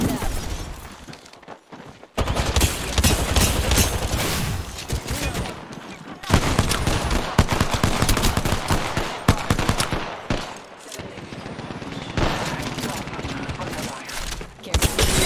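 Dense, loud gunfire rattles through an Apex Legends firefight on PS5, with rapid automatic bursts and sharp cracks that stop briefly and then resume.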